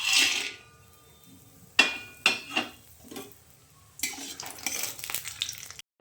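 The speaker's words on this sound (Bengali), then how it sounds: "বড়িগুলো ভেজে নেব।" Lentil dumplings (bori) fry in hot oil in a heated pan, giving an opening burst of hiss followed by several sharp clatters and scrapes, then a steady, moderately loud sizzle over the final seconds.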